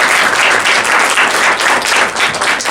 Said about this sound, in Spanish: Damos un aplauso a ambos equipos.